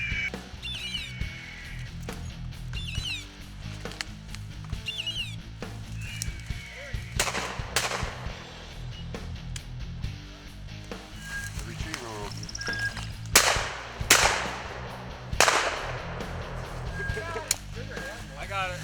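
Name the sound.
gunshots from hunters shooting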